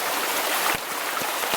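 Bluff Creek flowing in a forested setting, a steady broadband rush of moving water with faint low thumps, close and continuous with no voices.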